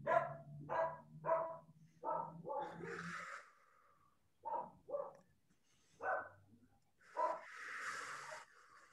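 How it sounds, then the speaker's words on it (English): A dog barks outdoors in a short run of several close, loud barks, then sends out a few more scattered barks after a pause, with snorting breaths and a brief hiss between them. "I'm listening to my dog barking out here."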